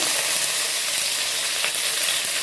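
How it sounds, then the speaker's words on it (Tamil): Cumin seeds, dried red chilies, asafoetida and curry leaves splutter in hot oil after mustard seeds, making a loud, dense, continuous crackling sizzle close up with no voices. "அது பொரியும் போது கொஞ்சம் சீரகம், 2 காஞ்ச மிளகா, பெருங்காயம், அதெல்லாம் பொரியும் போது கருவேப்பிலை"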